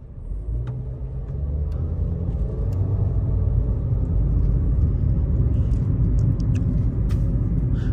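An automatic car pulling away from a stop line, its engine rumbling low and steady and rising gradually in revs, close and fairly loud, with faint clicks over the top and no talk.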